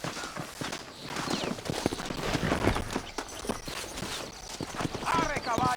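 Horse hooves clip-clopping at a quick pace in Red Dead Redemption, rapid rhythmic thuds running the whole way under loud talk, with a whinny near the end.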